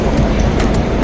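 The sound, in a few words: Madrid metro train passing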